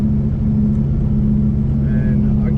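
A supercharged 2004 Ford Mustang engine hums steadily while cruising, a loud, continuous low drone from inside the car with no pulls or revving.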